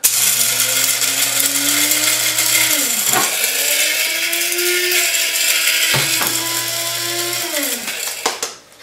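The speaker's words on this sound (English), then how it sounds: "I'm going to put about two and a half scoops into my grinder right here. Get the top and grind." A coffee grinder grinds coffee beans in loud, steady bursts of motor whine, stopping briefly twice between runs before winding down at the end, with no talking.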